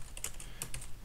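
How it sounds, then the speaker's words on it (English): Quick, irregular keystrokes on a computer keyboard, close and crisp clicks in short bursts against a quiet background. "Let's start typing in the name of the documents that we want to link."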